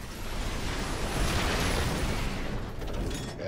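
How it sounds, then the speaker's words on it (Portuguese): A sustained rumbling grenade blast in StarCraft 2 co-op, a broad roaring explosion that swells and fades over a few seconds, heard without any talking. "soltei aqui uma granada, né, pra matar aqui rapidinho"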